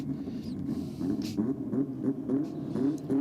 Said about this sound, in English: Okay, so the black ute is back out.